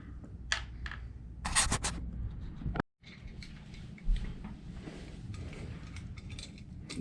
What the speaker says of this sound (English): This is how I strip wires.